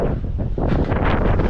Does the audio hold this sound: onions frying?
no